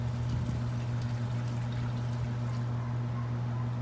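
Liquid poured onto citrus plants from a heavy container, a steady trickling stream over a constant low mechanical hum.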